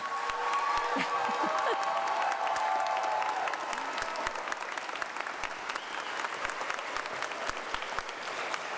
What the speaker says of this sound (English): I'd like for you to give a big round of applause